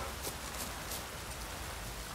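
Steady rain hiss in Witcher 3, a broad, even wash of falling drops that stays continuous and fairly faint from start to finish, with no talk over it.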